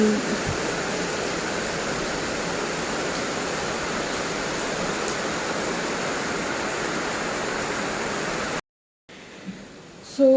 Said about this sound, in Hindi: इतनी ज़्यादा तेज़ बारिश हो रही है